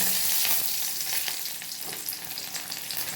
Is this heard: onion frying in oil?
yes